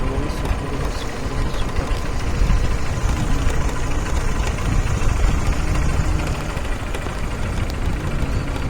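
A motorbike engine runs steadily on a village road, with a continuous low rumble and rough texture, close by, with no voices over it.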